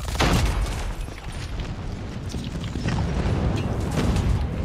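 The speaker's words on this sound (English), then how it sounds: "Friendly airstrike incoming." Airstrike explosions in a Call of Duty ranked match, a loud booming blast at the start followed by a continuous rumbling barrage of detonations and gunfire, close and dense, with no voices.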